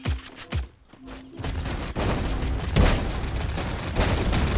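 Gunfire from the battle royale game Free Fire: a few separate heavy shots, then sustained dense rapid firing that stays loud and continuous, without talk.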